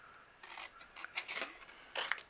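Scissors snip and slide through black cardstock up close, a few short crisp cuts and rasps spread over a couple of seconds against a quiet room.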